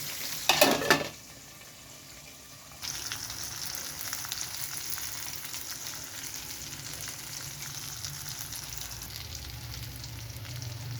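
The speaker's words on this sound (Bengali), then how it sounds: "পাবদা মাছগুলো তেলের উপর দিয়ে দিয়েছে দেখেন ভেজে নেবো" Pabda fish fry in hot oil with a brief loud splatter at the start, then a quieter muted stretch before a steady, close, crackling sizzle resumes and continues without speech.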